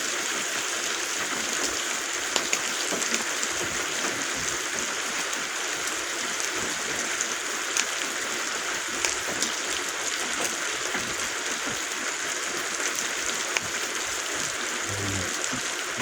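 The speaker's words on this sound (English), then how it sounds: "Love the sound of the rain on the roof." Rain falls on the roof of a fort on a rainy day, a continuous dense patter with occasional louder drops, close and steady with no talking.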